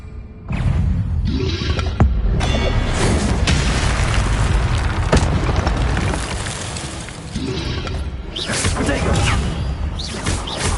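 Fiery whooshing bursts of the Incendio fire spell in Hogwarts Legacy, loud and booming, repeating over several seconds with short gaps.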